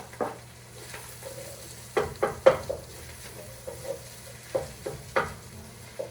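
Pea protein crumbles for a plant-based winter chili are stirred in a pot over a low, steady sizzle, with a series of scraping, knocking spoon strokes of varying loudness.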